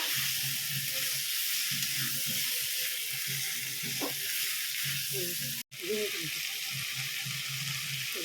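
Jackfruit and potato curry sizzles and fries steadily in a pan while being stirred, a continuous broadband hiss with soft scraping, a brief dropout midway, and faint voices murmuring underneath.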